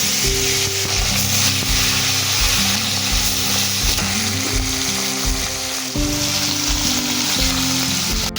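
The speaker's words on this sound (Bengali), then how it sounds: "তেলটা গরম হয়ে গেছে, এবার আমি মাছগুলো ভেজে নেব।" Fish pieces fry in hot oil in a wok, a loud, dense, continuous sizzle and crackle that holds steady throughout, close and without any talking.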